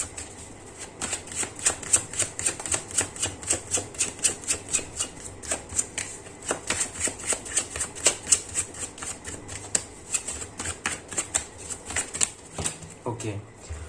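Tarot cards being shuffled by hand, a long run of quick, crisp riffling snaps in a steady rhythm, close and fairly loud, with a voice speaking softly underneath.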